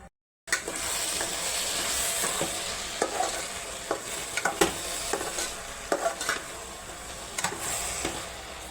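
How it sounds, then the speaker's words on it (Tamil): Masala for a chicken dish fries in a pan with a steady sizzle while a spoon stirs it, scraping and clicking against the metal at irregular intervals, close by. "நல்லா வாசம் வர வரைக்கும் கிண்டிக்கணும்."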